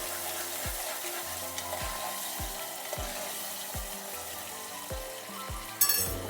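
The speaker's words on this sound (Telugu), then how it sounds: "ఇవి కొంచెం బ్రౌన్ కలర్ వచ్చే వరకు ఫ్రై చేస్తాం" Onions fry in a pan for a cluster beans curry, a continuous close sizzle broken by regular scraping stirs roughly every second, ending on a louder clatter.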